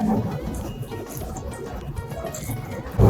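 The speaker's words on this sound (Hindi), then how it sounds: "साथ ही हम इसमें 1 गिलास पानी ऐड करेंगे।" Water from a glass pours into a pot of beef karahi cooking with turmeric, dried coriander and cumin, giving a steady splashing, bubbling liquid sound that ends in a louder thump.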